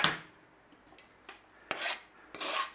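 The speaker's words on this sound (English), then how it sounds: "we're going to stir a little bit of that" A spoon stirs chopped basil into spaghetti in a pan, making a few quiet scraping and rubbing strokes against the metal with soft pauses between them.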